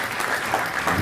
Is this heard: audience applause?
yes